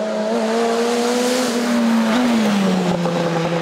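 A JD 1400 Turbo race car screams up the hill climb course at Saint Gouëno, its engine note rising and dropping through a gear change, loud and close as it passes.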